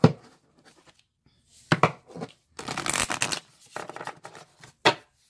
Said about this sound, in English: All right, so we'll shuffle.